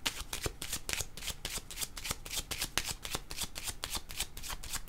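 Deck of playing cards shuffled during a French-language card reading, a steady run of crisp riffling flutters repeating quickly and evenly, close and alone without voices.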